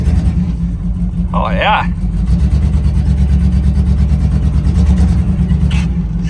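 A barn-find square body truck rumbles under load as it pulls away, its engine running steady and a little starved for fuel; someone speaks briefly over the engine noise.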